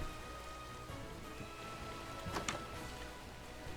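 Rain falling in the video game Minecraft makes a steady, even hiss of close-up downpour that runs through the whole clip, with a brief burst of louder patter just past the middle. No one speaks.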